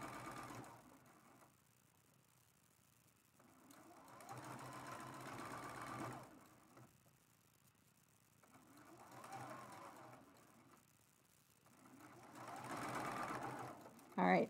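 A sewing machine stitches a pin-basted T-shirt quilt seam in several bursts of whirring, each a few seconds long with pauses between, close and moderately loud, with faint room sound in the gaps.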